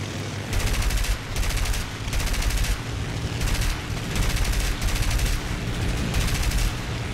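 Rapid bursts of aircraft machine gun fire in War Thunder, a bomber gunner engagement, come as repeated loud chattering volleys over a low engine drone, with several bursts following one another and no speech.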